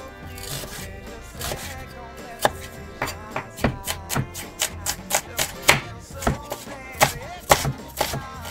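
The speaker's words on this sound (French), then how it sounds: "On s'attaque à l'oignon. Donc on va le ciseler." Knife finely chopping onion on a board for burritos, a run of close, crisp taps that speed into a steady rhythm, with a faint voice early on.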